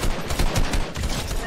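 Rapid bursts of gunfire in the video game Fortnite, loud and close, a dense rattle of shots packed tightly together for a second and a half with no talking.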